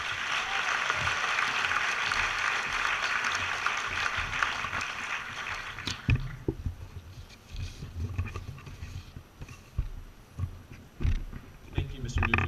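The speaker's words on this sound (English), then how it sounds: "Please give him a round of applause." A graduation ceremony audience applauds a student, with dense clapping for about six seconds that then fades into scattered claps and room noise.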